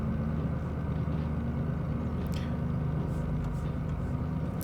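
A DE6 diesel locomotive in Derail Valley labours at a steady low drone, its engine hum constant and moderately loud throughout, with a faint rumble beneath and no voices.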